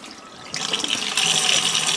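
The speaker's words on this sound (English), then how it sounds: "rinse all that salt off of there" Tap water runs over cured salmon in a tilted basket to rinse off salt, a steady splashing stream that grows louder as the flow increases, with no voices.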